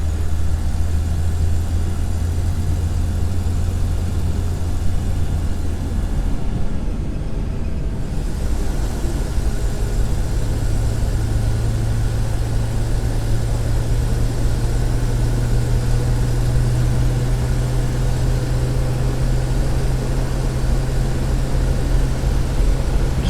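A 1964 Chevy Nova engine idles steadily up close, a continuous low droning rumble that holds for the whole stretch with a slight shift in pitch partway through, with no voices over it.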